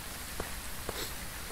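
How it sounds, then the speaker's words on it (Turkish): Rain falling in the horror video game Phasmophobia, a steady diffuse hiss of drops hitting surfaces, with a couple of brief soft taps, no voices over it. "Yağmur yağıyor."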